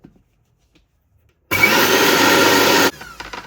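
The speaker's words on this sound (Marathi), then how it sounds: "हे तीळ आता मिक्सरमधून बारीक करून घेणार आहोत" Sesame seeds whirring in a mixer grinder, one loud continuous burst of about a second and a half starting abruptly after near silence, then cutting off into brief rattling.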